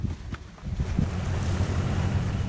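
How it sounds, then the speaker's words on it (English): A boat sailing on the flooded Brahmaputra river in Assam during peak monsoon: a broad rushing wash of water and wind fills the brief stretch, with a low continuous rumble beneath and no talking. "It's peak monsoons as we set sail on the flooded Brahmaputra."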